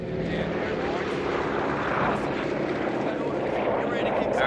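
Airborne drop aircraft in the video game Company of Heroes 3 make a loud, steady engine drone that fills the whole stretch, mixed with other battle noise.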